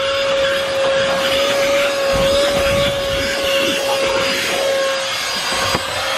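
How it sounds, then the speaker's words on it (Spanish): A small brush scrubs steadily and continuously at close range, a loud, even rubbing texture with a faint steady hum running underneath throughout. "Creo que estas también voy a tener que hacerles con el cepillo chiquito."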